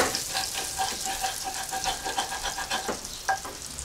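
Browned turkey bits scraped around a hot frying pan, a steady sizzle with repeated rhythmic scraping strokes of a utensil against the metal, close and moderately loud.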